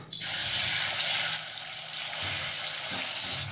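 Tomato paste hits hot refined oil in a pan, a bright hissing sizzle that flares up at once, then settles into a steadier frying crackle with a few soft clatters.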